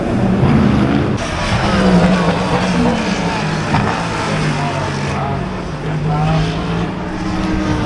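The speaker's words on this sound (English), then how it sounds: "Here we are then, the Dunlop, the most mythical corners of motor racing." Loud race car engines roar continuously at Le Mans near the Dunlop corners, a thick, steady mechanical drone that swells and fades slightly as cars pass.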